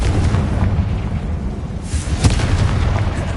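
A booming fiery Confringo spell explosion in a magic-themed video game, a loud continuous rumbling blast with a sharper burst midway, no talking.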